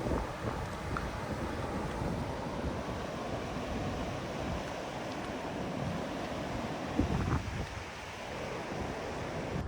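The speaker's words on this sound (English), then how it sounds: "here's some of the rapids" River rapids at a riverwalk in Phenix City, Alabama rush in a steady, broadband roar heard from the bank, with wind buffeting the microphone.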